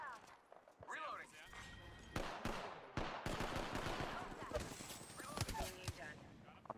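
Rapid gunfire in Apex Legends, bursts of shots and impacts crackling through a busy firefight, with a player talking over the action.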